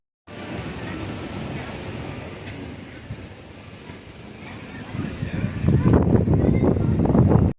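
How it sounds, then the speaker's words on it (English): Strong wind buffets the microphone on an open cruise ship deck in rain, a steady low roar that swells louder toward the end, with a voice talking over it. "It is so windy and rainy."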